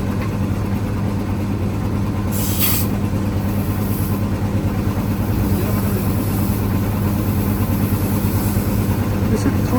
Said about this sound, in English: Here is wheel balancing.